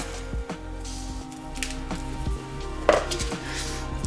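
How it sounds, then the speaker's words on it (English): Gluten-free burger mixture is worked in a bowl, giving soft squelching and sticky mixing noises with a few light taps against the bowl over a low background hum. "Then we're just going to mix all that together again."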